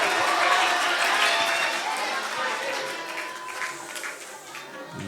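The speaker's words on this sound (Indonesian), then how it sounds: "Beri tepuk tangan semuanya." Audience applause and crowd noise welcoming a newly arrived speaker at an Islamic school gathering, a steady, dense wash of clapping sustained for several seconds with murmuring voices mixed in.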